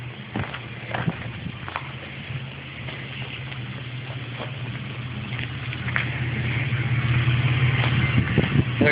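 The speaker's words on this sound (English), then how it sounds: "got the car running outside" Car engine running outdoors, a steady low idle hum that gradually grows louder, with a few scattered knocks and clicks over it.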